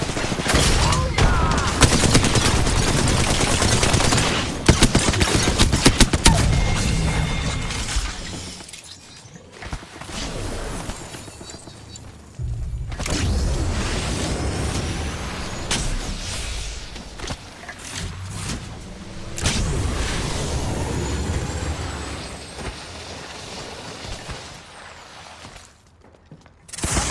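An arc star grenade is thrown and bursts in a video game firefight, lost in a long stretch of loud, dense gunfire, sharp shattering hits and rumbling explosions that barely let up.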